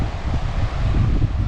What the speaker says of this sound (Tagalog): Uy, lakas ng hangin